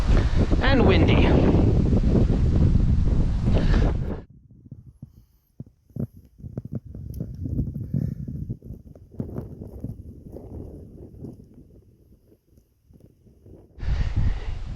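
Wind gusts on a mountain hiking trail near Mt Nyoho in Nikko, Japan, loud and roaring across the mic for the first few seconds. It drops to softer rustling and voices, then a strong gust returns at the end.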